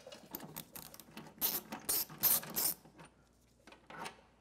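An Allen key backs out a brake pad retaining pin during a bicycle track change, with close, small metallic clicks and ratcheting scrapes that build into a few louder bursts midway, then fade to faint ticks.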